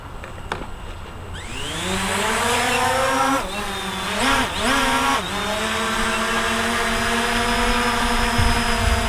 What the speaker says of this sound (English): I'm gonna take it up and go for a little flight